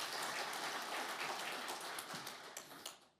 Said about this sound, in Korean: 은혜로운 말씀을 전해주신 목사님께 감사의 박수를 드립니다